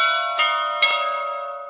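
Church bells ringing for the start of a ceasefire between Russia and Ukraine at Orthodox Easter, two loud clear strikes less than half a second apart with a long sustained humming ring that slowly fades.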